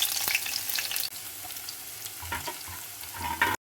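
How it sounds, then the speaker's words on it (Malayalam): Onion and garlic sauté in a pan over already-popped mustard seeds, giving a close, busy crackling sizzle broken by the scrape of stirring. "സവാള ഇങ്ങനെ വഴറ്റി വരിക"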